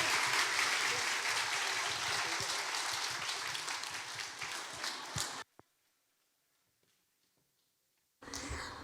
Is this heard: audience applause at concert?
yes